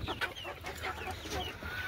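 Golden Misri chickens cluck inside their coop on a Pakistani farm, with scattered nearby calls and soft chirps over a faint background hum and no voices.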